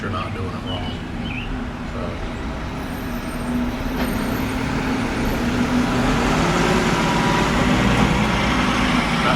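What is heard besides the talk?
trash truck in the background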